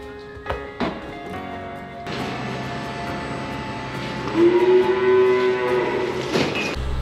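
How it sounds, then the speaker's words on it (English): A small cow confined in a cattle crush on a farm lets out a long, loud moo at close range, preceded by a few clanks and knocks of the metal crush. "I've just got this little cow into the crush"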